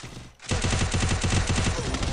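Rapid automatic gunfire from a Mini Uzi in the game Free Fire, a fast steady burst of shots starting after a short pause and continuing loud to the end.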